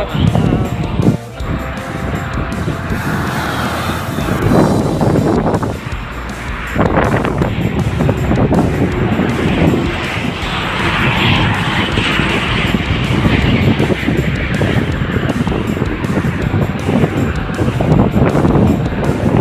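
Strong wind roars across the microphone in a desert in the UAE, blowing sand in a loud, continuous rush, with gusty buffeting throughout.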